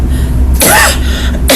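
A single loud cough from a woman close by, a harsh burst followed by a second shorter one about a second later, with no talk around it.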